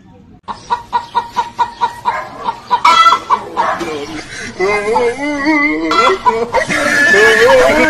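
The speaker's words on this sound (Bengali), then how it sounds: "দেখ মুরগি কি করে ডিম দেয়" A hen clucking as she lays an egg, a run of loud, evenly spaced clucks close by that build into rising, drawn-out squawking cackles.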